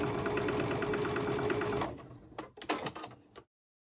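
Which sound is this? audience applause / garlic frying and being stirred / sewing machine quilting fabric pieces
sewing machine quilting fabric pieces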